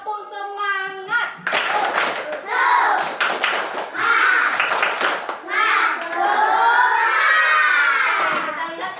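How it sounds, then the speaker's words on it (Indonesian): A group of schoolchildren in an Indonesian classroom performs the "tepuk semangat" rhythmic clapping chant, with loud claps and voices shouting in unison in Indonesian, continuing steadily close by. "Ibu mau supaya lebih semangat lagi kita buat tepuk semangat kita ya"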